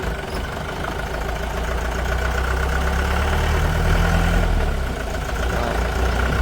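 A farm jeep engine idles and creeps forward slowly in a village field, a steady low rumble holding close and even throughout with no voices.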